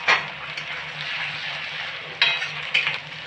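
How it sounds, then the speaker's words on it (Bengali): Ginger garlic paste frying with onions in a pan, a steady close sizzle with a few sharp stirring scrapes and clinks of the spoon. "এবার আমি আদা রসুনের পেস্ট দেব।"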